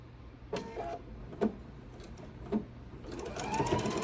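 A sewing machine stitches the fabric of a Christmas tree skirt with bias binding, a steady whirring run broken by short pauses, close and clear with no one talking.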